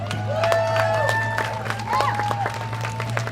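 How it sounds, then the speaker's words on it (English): An outdoor crowd at the Break the Chains 5K in Federal Way applauds and cheers, with steady clapping, a few whoops rising above it, and a murmur of voices throughout. "Federal Way, give yourselves a round of applause."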